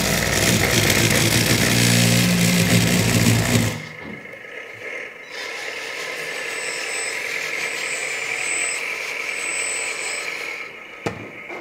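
A 1/14 scale LESU hydraulic RC road roller gives a loud mechanical buzzing whine, then a quieter steady electronic engine hum with soft beeping tones, and a sharp click near the end.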